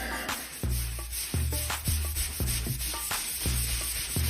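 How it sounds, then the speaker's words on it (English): Joint compound being sanded with a wet sponge, heard as close, rhythmic rubbing strokes repeating about twice a second, steady and alone with no voices. "Sand with a wet sponge."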